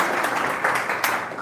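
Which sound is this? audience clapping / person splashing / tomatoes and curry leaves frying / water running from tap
audience clapping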